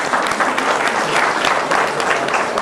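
An audience applauds at a class award ceremony, a loud, dense, continuous wash of many hands clapping from start to finish with no talking over it.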